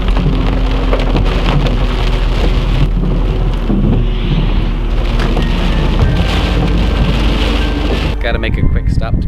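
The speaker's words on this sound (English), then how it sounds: "We got our second thunderstorm of the year." Steady heavy rain from a thunderstorm pours down loudly and without a break, a broad continuous hiss with rumbling low end, before cutting off sharply near the end.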